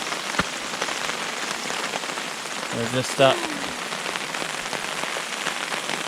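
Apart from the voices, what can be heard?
pouring rain at a wilderness camp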